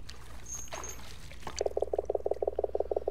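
Frog croaking in the Ghost Of A Tale video game, an old pirate frog character, giving a quick run of about a dozen evenly spaced, loud croaks after a brief stretch of quiet ambience.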